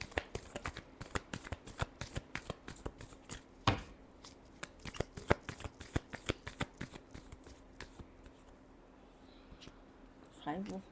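Tarot cards being shuffled by hand in a quick run of close, crisp riffling flicks and slaps, with a brief pause and a few final taps near the end.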